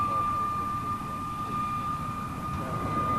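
Steady drone of a lead aircraft flying close ahead, about 12 yards off in formation, holding an even, continuous tone with a sharp whine on top and deep rumble beneath, loud throughout.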